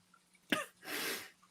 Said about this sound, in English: coughs twice